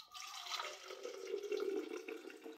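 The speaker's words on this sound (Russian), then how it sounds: "наливаем водичку." Water is poured steadily from a vessel into a glass for a homemade slimming drink, a continuous close splashing stream lasting a couple of seconds with no talk over it.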